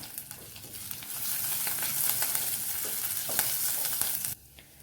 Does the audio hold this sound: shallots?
yes